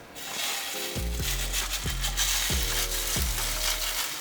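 A veggie bean patty sizzles steadily in hot oil in a pot, a continuous frying hiss with a few soft knocks and scrapes as it is pressed flat and shaped.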